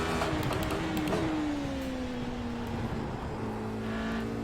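Radical SR8 race car lapping Spa-Francorchamps in iRacing, its engine note rising and falling steadily through gear changes, loud and continuous with no voices.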